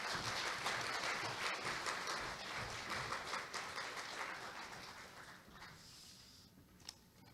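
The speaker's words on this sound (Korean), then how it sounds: "큰 박수로 맞이해 주시기 바랍니다." Dense applause from a conference opening ceremony audience rings out loudly at first, then gradually thins and fades, with a few last scattered claps at the end.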